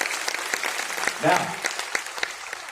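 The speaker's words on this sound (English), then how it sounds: "So give them a big round of applause." A cruise ship theatre audience applauds after a performance, lively clapping with scattered sharp claps, and someone briefly speaks a word over it midway.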